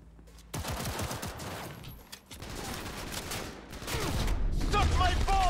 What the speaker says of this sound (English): Oh yeah, it's the auto pistol.